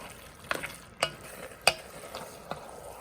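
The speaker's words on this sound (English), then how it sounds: "Just make sure everything's blended. The refried beans are a little thick, so it's going to take a while to get those mixed in." Chili with ground meat and thick refried beans being stirred together in a pot, a few sharp spoon scrapes and knocks over a low, steady cooking hiss, with no talking.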